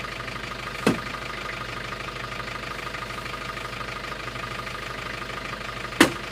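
Steady mid-pitched chug of an idling tractor engine, close by, with two sharp clanks punctuating the continuous rhythm.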